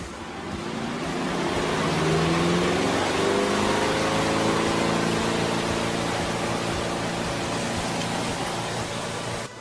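A Giantex 2022 portable mini compact twin tub washing machine spins through its drain cycle, giving a steady, rushing whir with a low motor hum that holds loud and even throughout, no voices.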